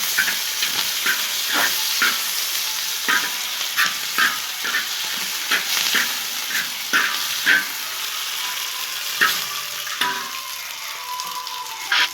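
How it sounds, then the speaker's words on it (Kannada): Chicken kebab pieces frying with green chutney in a pan, a hissing, steamy sizzle punctuated by regular spatula scrapes and taps at a steady rhythm, close up with no voices. "ಆ ಚಟ್ನಿನ ಹಾಕಿ ಇನ್ನು ಸ್ವಲ್ಪ ಫ್ರೈ ಮಾಡ್ಕೊಳ್ತಾ ಇದ್ದೀನಿ"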